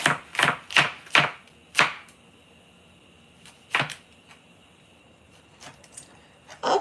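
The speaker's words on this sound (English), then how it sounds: "The chopping of the okra is over." A knife chops okra on a cutting board: a quick run of sharp, close knocks, then a pause and a few scattered strikes trailing off.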